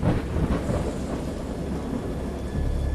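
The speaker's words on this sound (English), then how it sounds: "I know that I heard pearls of thunder and other tones which nature utters only in her wildest moods" Thunder rolls through a stormy scene in the video game Dagon, a deep rumbling that swells and recedes over rain-like hiss, loud and without speech.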